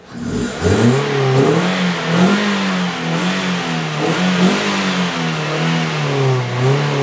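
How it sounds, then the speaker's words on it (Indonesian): A Toyota Vios third-generation car engine revs up hard to about 4,000–5,000 RPM and holds a loud, high drone, wavering as the throttle rises and eases. "Terus kita coba gas gede"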